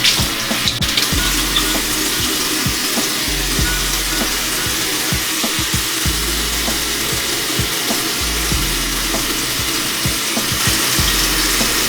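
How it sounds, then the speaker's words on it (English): Tap water runs steadily into a sink while a face is washed with a Shea Moisture Manuka Honey and Yogurt cleanser, a constant close hiss broken by irregular splashes and drips throughout. "I'm gonna add water now."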